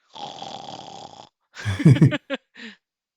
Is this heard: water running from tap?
no